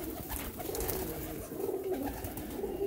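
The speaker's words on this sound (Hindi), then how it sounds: "देखें जी आपको हम घूमते हुए कबूतर दिखा रहे हैं, ये इनके शौक के बड़े जोड़े कबूतर हैं" Golden pigeons on a rooftop cooing in soft, low, repeated calls, quiet and close, with faint background noise.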